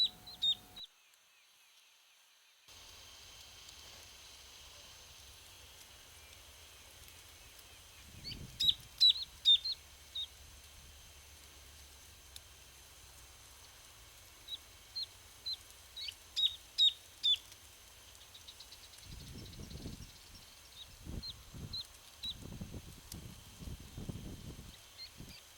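Tío bird song in a coastal reserve at Playa Penino, Uruguay: bursts of high, sharp whistled notes repeated in short clusters, fairly distant, with occasional low thumps and rustling nearby.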